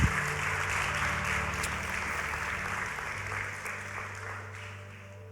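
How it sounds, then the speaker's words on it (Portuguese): A church congregation applauds during a sermon, a dense and sustained clapping that fills the room, with a low musical hum underneath that slowly fades toward the end. "Pode aplaudir a Jesus."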